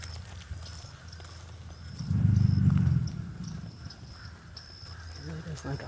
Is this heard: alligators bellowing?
yes